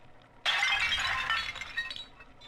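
A Louis XV–style porcelain tea service shatters in the video game Bioshock 2: one sudden loud crash, then a tail of tinkling fragments that fades over about two seconds.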